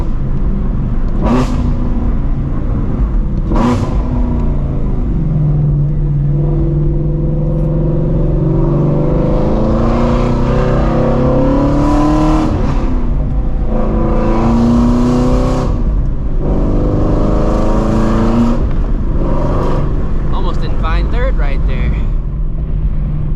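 A Shelby GT350 revs and accelerates hard through traffic, its loud engine note rising and falling in several surges, with someone talking over the rumble inside the car.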